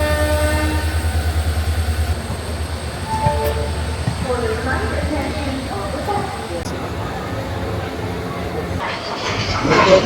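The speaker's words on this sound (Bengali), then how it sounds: "আমাদের ট্রেন ছেড়ে দিল সাঁতরাগাছি জাংশন স্টেশন।" A local fast passenger train from Kolkata to Digha departs Santragachi Junction with a continuous rolling rumble and rhythmic wheel clatter, heard from on board, while people talk over the noise.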